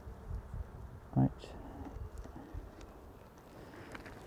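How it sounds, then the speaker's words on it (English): Honey bees buzz softly around an open hive during varroa mite treatment with Apivar, a steady low hum with a brief louder buzz as one flies close, faint background handling noises. "these are nice calm bees"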